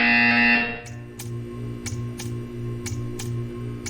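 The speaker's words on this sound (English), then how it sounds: "When you hear the buzzer, stare at the art." A loud electronic buzzer tone from the video game Portal 2 sounds briefly, then cuts off, followed by a low steady hum with regular faint clicks.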